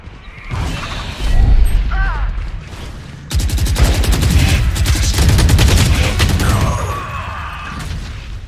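Gunfire in a Valorant-style tactical shooter game: a sustained rapid burst of automatic shots in the second half, close and loud, following scattered earlier shots, with voices talking over the action.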